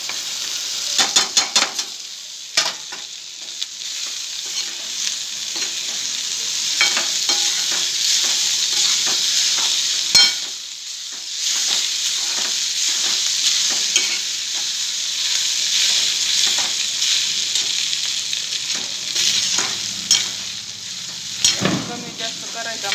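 Rice sizzles loudly as it is stir-fried in a hot kadhai for fried rice, a continuous hiss with scraping spoon strokes and occasional clatter, and a voice speaks briefly over it.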